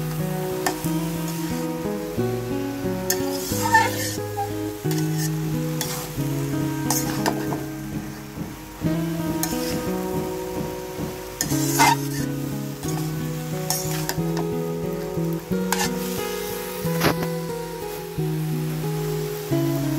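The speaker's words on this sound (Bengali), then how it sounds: "এভাবে মিডিয়াম আঁচে কিছু সময় ধরে একটু ভাজতে হবে। আবার একটু নাড়াচাড়া করে নিচ্ছি।" Bay leaves frying in a pan over medium heat for lau bhaji, a continuous sizzle with scraping stirs, set under steady music.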